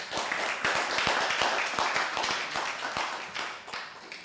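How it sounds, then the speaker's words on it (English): Audience at a town hall meeting for a port development project clapping steadily, a dense run of many hands applauding together that fades slightly toward the end. "So let's just give them all a round of applause"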